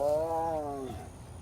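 A tiger at Big Cat Rescue in Tampa, Florida gives one close, moderately loud vocal call that falls away over about a second into a quieter background.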